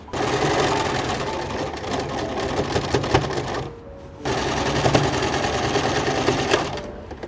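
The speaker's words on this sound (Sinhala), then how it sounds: "මේ විවරයත් එක්ක මල්ලලා වටේටම මැෂින් ලයින් එකක් දාගෙන යන්න ඕනේ." A sewing machine runs a continuous stitching line around the edges of a handmade Christmas table runner, loud and steady with a brief pause partway before resuming at the same pace.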